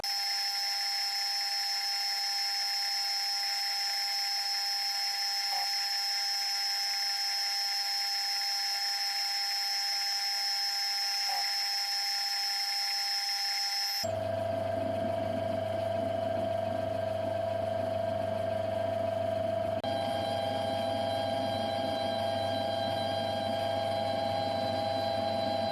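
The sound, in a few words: center cutting end mill squaring a hole bottom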